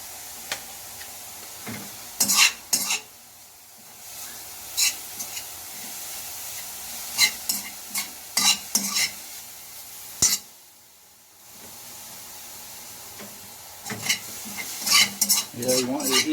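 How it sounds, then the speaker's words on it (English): A utensil stirs and scrapes chewing tobacco simmering in juice over low heat in the Philippines, with irregular clinking strokes and a soft sizzle, spaced by quiet pauses. "you want your heat just to be on a low simmer, about as low as you can get it."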